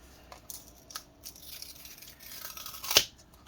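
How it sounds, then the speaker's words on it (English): Adhesive tape being peeled up from an ASUS Zenbook UX461U laptop during disassembly, heard as soft, intermittent close-up tearing and scraping with a sharper rip near the end. "So we got to peel this tape off, obviously."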